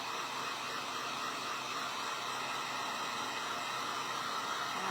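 A hair dryer blows steadily at close range over a glued craft Santa face, a constant broadband whoosh with no pauses and no voices.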